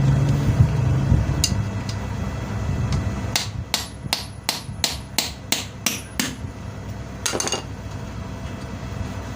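Hammer blows knocking the end plate off a 2 hp electric motor during repair: about ten sharp metallic strikes in a steady rhythm, close and fairly loud, followed by a couple of lighter taps.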